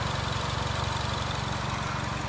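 A Peugeot 3008 engine idles after repair work, running steadily with an even, rapid mechanical pulse and a broad hiss, close and loud, with no talking.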